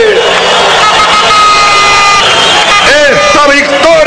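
A massive crowd at Hugo Chávez's 2009 referendum victory rally outside Miraflores palace roars with continuous applause and cheering, loud and dense, with whistles and shouting voices rising through the steady wash of noise.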